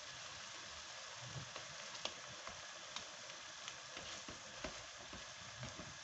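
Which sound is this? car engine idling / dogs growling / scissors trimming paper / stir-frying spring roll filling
stir-frying spring roll filling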